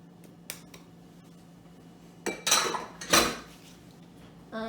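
Cumin seeds being stirred into biscuit dough in a bowl, with scattered clinks and scrapes of a utensil against the bowl building to a few louder clattering bursts near the end, no voices.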